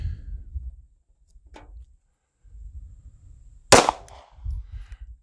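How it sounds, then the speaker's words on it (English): A single sharp 9mm gunshot, a Federal Hydroshock round fired during a velocity test, cracks out loud and close in the middle of a quiet stretch, with faint low background rumble before and after. "We'll be shooting the same bullet for all the 9mm."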